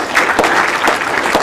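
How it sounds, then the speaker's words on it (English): A conference audience claps in a brief, dense burst of applause, loud and close, with no speech. "So, round of applause for him as well"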